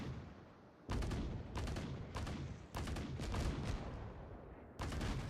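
Naval guns firing in World of Warships, a series of heavy booming salvos in quick succession, each with a rumbling tail, loud and alone without talk.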